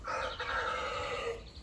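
A young rooster in a backyard poultry flock gives one long, strained, somewhat rough crow, held across most of the moment at moderate distance with a slight break partway, no voices over it.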